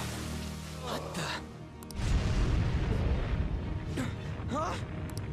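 An explosion in the video game Persona 5: a deep rumbling blast rolls in about two seconds into the clip and lingers under game music and character voice effects, with a broad roaring low end.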